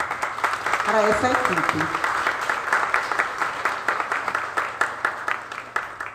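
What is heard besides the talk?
audience applause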